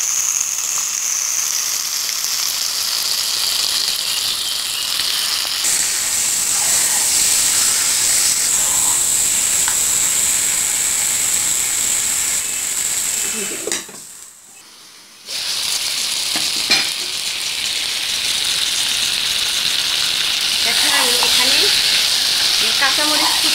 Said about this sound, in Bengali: চুলার আঁচটা কমিয়ে দিয়ে আস্তে আস্তে নেড়ে দিব